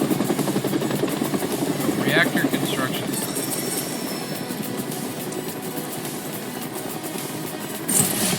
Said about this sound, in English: We see a Shinra helicopter landing up ahead.